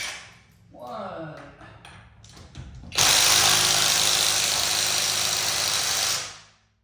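A cheap Seesii 1/2-inch cordless impact wrench bought on Amazon, sold as a 479 ft-lb model, spins up after a brief moment of talk and runs with a loud, steady whir for about three seconds before winding down.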